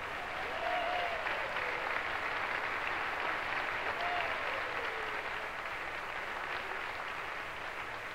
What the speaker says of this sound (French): On applaudit bien fort Kylian Tanguay